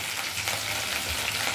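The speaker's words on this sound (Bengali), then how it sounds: "ফুলকপি আর গাজর একসাথেই মা ভেজে নিচ্ছে" Cauliflower and carrot pieces fry together in ghee, giving a steady, close sizzle with soft crackling throughout and no talking.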